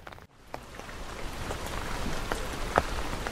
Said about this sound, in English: All the rain we've been waiting for never came until now.